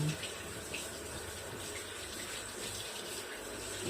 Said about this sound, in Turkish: Ellerimi bir daha yıkıyorum.